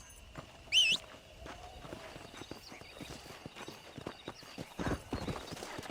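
Horse hooves clip-clop at an easy walking pace while riding in Red Dead Redemption, with a brief whinny near the start, steady moderate footfalls over quiet outdoor ambience and no talking.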